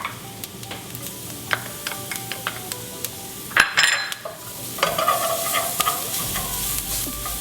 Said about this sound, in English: So now that you see that the ginger is slowly kind of browning, we're gonna add the garlic.